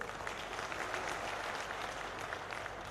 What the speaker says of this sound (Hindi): इनके लिए ताली जरूर बजा।